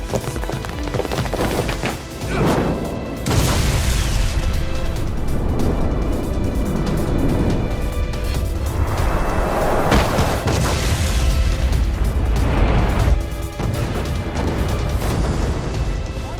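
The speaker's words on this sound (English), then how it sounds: "This ship just exploded!" A ship exploding in the video game Lost Judgment, heard as heavy booming crashes and rumbling blasts that swell and recede over a loud, dense background with no speech.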